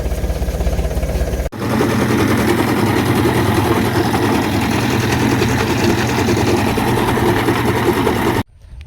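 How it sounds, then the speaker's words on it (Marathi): A tractor-driven chaff cutter chopping fodder, a loud steady mechanical roar with a rapid rattling chop that starts abruptly after an engine idle and then cuts off near the end. "आज चाललोय कुट्टी करायला."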